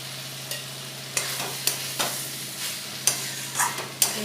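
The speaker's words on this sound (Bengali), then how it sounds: "এবার ওতে ভেজে রাখা আলুগুলি দিয়ে দেবো।" Fried potatoes being stirred into a pan of frying pumpkin stems and eggplant, giving a steady low sizzle broken by several sharp scraping clacks of a spatula against the pan at an uneven rhythm.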